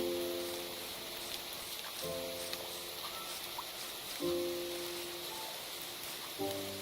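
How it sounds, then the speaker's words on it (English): Steady rain patter in Minecraft, a broadband hiss of falling drops that carries on evenly while soft in-game music notes enter and fade around it. "Minecraft music and rain sounds."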